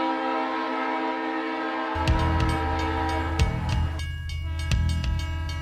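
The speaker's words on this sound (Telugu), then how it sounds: "మామ ట్రైన్ వచ్చింది" A train pulls into a station: a steady, sustained horn sounds first, then heavy rumbling and rhythmic clattering of cars roll in loudly and close, with no talk over it.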